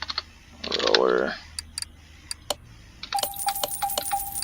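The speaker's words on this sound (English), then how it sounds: "I think it's faster just hitting enter on it a bunch" Computer keyboard keys pressed repeatedly while ordering parts in Car Mechanic Simulator 2018, a handful of sharp, separate clicks in an uneven rhythm alongside short interface chimes, with a brief voice near the start.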